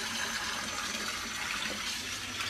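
Water from a tap pours steadily onto hair being rinsed during blue hair dyeing, a continuous close hiss and splash with no talk.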